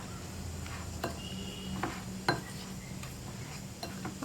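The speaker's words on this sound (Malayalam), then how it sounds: "ഇനി ഇതെല്ലാം ചേർത്തൊന്ന് ഇളക്കി മിക്സ് ചെയ്യുക" Cauliflower pieces are stirred with spices and rice flour in a bowl, giving soft scraping and occasional spoon taps against the side, quiet and close, with no voices.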